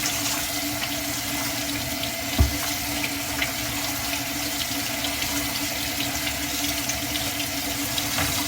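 Tap water runs steadily into a sink while green beans are washed, a close, continuous rushing splash with one brief knock partway through and no talking.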